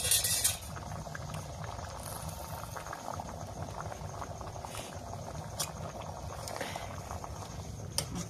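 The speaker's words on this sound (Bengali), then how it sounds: "মাংসর ঘুগনি ফুটে গেছে, আর একটু ফুটুক, আর একটু ফুটলেই নামাবো।" Meat ghugni bubbles in a pot with a quiet, continuous simmer and small popping bubbles, plus a brief clink at the start.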